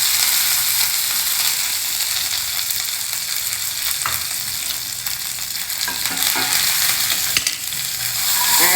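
Hing, a dry red chili, a green chili and curry leaves sizzling loudly in hot oil, a dense continuous frying hiss with scattered pops and stirring scrapes, close and steady throughout, with no talking.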